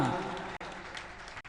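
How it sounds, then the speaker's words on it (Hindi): An audience at a Jain religious festival marking a saint's first memorial anniversary bursts into loud, dense clapping, with a brief voice at the start and two short breaks in the applause. "एक बार मेरे लिए भी जोर से ताली बजाओ ना।"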